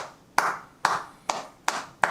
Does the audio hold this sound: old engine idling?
no